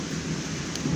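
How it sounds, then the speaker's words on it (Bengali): Rain picking up after an initial spell of strong wind, a steady broadband wash with low rumbling gusts swelling toward the end. "এখন কিন্তু বৃষ্টি আস্তে আস্তে বাড়ছে।"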